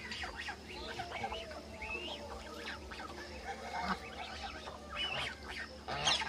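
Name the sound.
ducks being fed rice and flour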